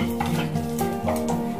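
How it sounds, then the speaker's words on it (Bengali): Bay leaf and whole garam masala sizzle in hot oil in a pan for a semolina and paneer pulao, a steady close hiss broken by a few stirring clinks and scrapes, with no talk. "আর তেজপাতাটা ফোড়ন দিতে হবে"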